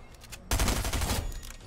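A bot in a shooter game fires a sudden, loud, rapid burst of gunfire that runs for over a second after a brief quieter lead-in.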